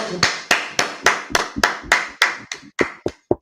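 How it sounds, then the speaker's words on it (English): About a dozen sharp hand claps in a steady rhythm, close and loud, each with a quick decay, slowing slightly toward the end. "clap it up, clap it up, clap it up"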